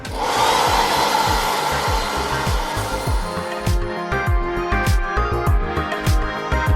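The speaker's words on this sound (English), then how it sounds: "Heat up the food with the hairdryer." A hair dryer blows in a steady, loud whoosh while warming up food in a quarantine hotel room, with small knocks and handling taps against it throughout.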